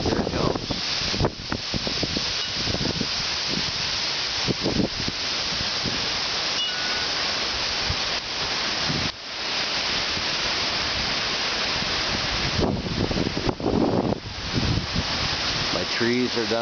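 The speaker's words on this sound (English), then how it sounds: "wind buffeting everything. It's crazy wind." Hurricane wind buffets everything outdoors, a loud constant roaring rush with gusty surges and rattling debris, someone speaking briefly over it.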